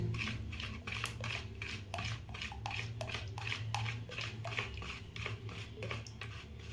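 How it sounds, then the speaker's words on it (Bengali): Jaggery is stirred into a mixture in a bowl while making malai patishapta pitha, with a spoon scraping and clinking against the bowl in a quick, rhythmic series of close strokes over a low background hum. "এইভাবে গুড়টাকে ভালো করে মিশিয়ে নেব"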